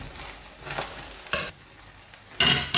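Paneer is stirred into rice in a pan: two short, loud scraping strokes stand out against a faint background hiss, close up, with no talking.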